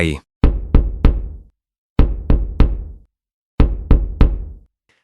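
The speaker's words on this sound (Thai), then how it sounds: "มีเสียงเคาะจากลานจอดรถ เสียงเคาะ3 จังหวะเสมอ เหมือนเขาเคาะกระจกรถขอให้ช่วย" Knocking on car glass as a drama effect: three sets of three sharp, hollow raps, each set evenly spaced with silent gaps between, close and loud with nothing else heard.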